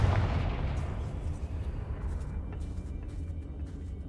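A fiery Confringo spell explosion in Hogwarts Legacy, a loud booming blast at the start that decays into a rumbling, crackling tail.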